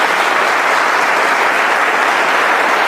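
Church congregation giving a warm round of applause for visiting families, a steady, dense clapping that fills the room evenly throughout without a break.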